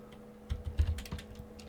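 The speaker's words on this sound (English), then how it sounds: "I'm just typing random numbers just to see how these effects changes." Soft clicking of keys being typed on a computer keyboard, an irregular run of taps, fairly close and quiet with no talking.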